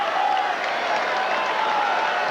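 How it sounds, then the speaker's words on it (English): A steady roar of cheering and applause rolls from the stands at a US Open tennis match between Becker and Agassi, a dense, even wash of crowd noise heard from a distance without pause. "The crowd getting quite into it now"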